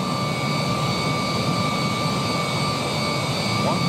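Steady, loud roar of Boeing 787 jet engines in a flight simulation video game, a constant broadband whine with tonal hums, continuous throughout without talk.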